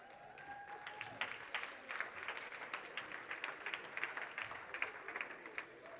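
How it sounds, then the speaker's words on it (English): Clapping rises from a room full of people at the Education Indaba 2024 award session, a steady moderately distant patter of many hands sustained for six seconds, with a faint tone at the start. "you can stand up and everybody else is going to clap for you"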